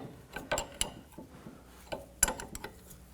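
A ratchet snugs the brake caliper bolts on a 2005-09 Volkswagen Jetta in short bursts of sharp metallic clicks and clacks, close and fairly loud in a quiet garage.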